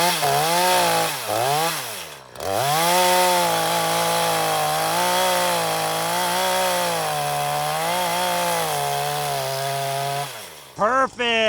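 A chainsaw runs loud and close while cutting a leaning tree, holding a high whine with brief dips as the bar bites, then cuts off near the end.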